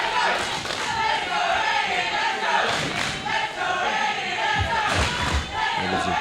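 Professional wrestlers at an Asylum Pro live event crash onto the ring canvas, several heavy thuds and slams booming over a loud, constant crowd roar and cheering.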